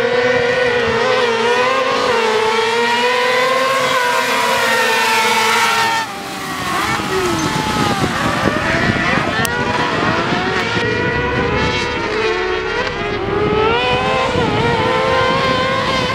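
Car cross race cars revving hard at the start of the second heat, a loud layered roar of many engines with rising and falling pitch, a brief dip partway through, then a dense rush as the pack pulls away.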